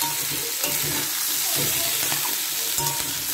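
Mixed vegetables with green chillies frying in a pan over a medium-low gas flame, a dense close sizzle broken by periodic stirring scrapes, no speech.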